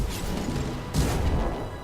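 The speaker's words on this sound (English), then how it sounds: "Just a little bit of an explosion there." An explosion in the video game Mass Effect 2 lands as a sudden broadband burst near the middle, with a dense rumbling crash over ongoing game noise.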